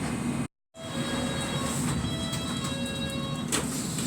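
Train standing at the Harrow on the Hill platform on a London line: a continuous loud rumble and hiss with a brief dropout near the start, faint tonal whines and a soft clunk late on.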